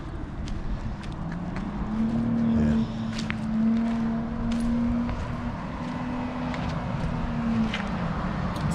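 A Porsche passes on a high-elevation mountain road, its engine note rising and holding as a steady hum for several seconds before fading away.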